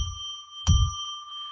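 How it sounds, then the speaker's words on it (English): A single clear bell or chime is struck once to declare sacred space, giving a close, pure ringing tone that sustains and slowly fades, with a low thump at the strike and no talking. "I'm going to ring a bell 3 times to declare sacred space"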